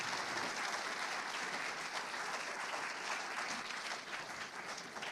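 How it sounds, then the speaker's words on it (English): Sustained applause from an audience honoring Braves Athletic Hall of Fame inductees, dense and steady clapping throughout with no pauses. "let's honor all of our Bayhoff inductees with another round of applause"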